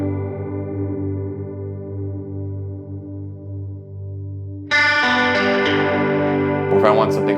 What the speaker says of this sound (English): So that's the chorus effects.